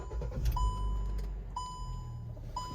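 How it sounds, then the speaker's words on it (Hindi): Seat belt warning chime in a 2016 petrol Hyundai i20: three short, clear beeps evenly spaced about a second apart, over a low idling rumble and faint cabin noise. "ये सीट बेल्ट वाली बीप है।"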